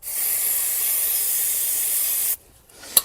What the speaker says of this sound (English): Give them a spray up with brake cleaner, wash all that dust and crap off.